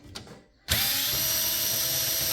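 A power drill spins up with a sharp start and then whines steadily for almost two seconds, close and loud, driving screws while a micro ATX gaming PC is taken apart; a few faint clicks come just before.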